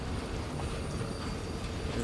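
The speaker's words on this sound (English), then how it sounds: "Oh, there's a train car." A train car rolls past in the Dishonored 2 video game, giving a steady, fairly faint low rumble of rail wheels and carriage noise that holds evenly for two seconds with no voices over it.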